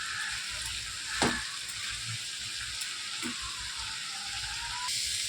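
Snake gourd with salt and turmeric fries in oil, giving a continuous near hiss broken by two brief scrapes of a stirring spoon against the pan.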